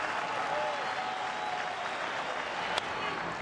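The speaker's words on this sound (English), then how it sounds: "Crowd's starting to get into it now with a count of 1 and 2 and 2 outs" A baseball stadium crowd in a steady, distant wash of cheering and clapping, with a single sharp crack near the end.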